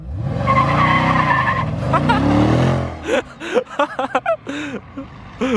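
A 6.2-litre Jeep Trackhawk skids with tires sliding and squealing, a loud, sustained screech for about three seconds before it cuts off, after which people talk excitedly nearby.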